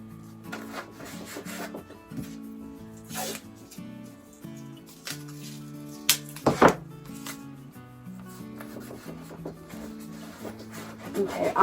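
Masking tape is rubbed firmly down onto a surface before acrylic painting of geometric mountains, giving soft, scattered scraping rubs with a few sharper taps over steady background music.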